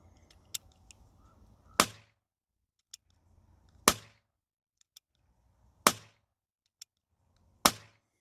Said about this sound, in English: Red Jacket number 4, firing blanks.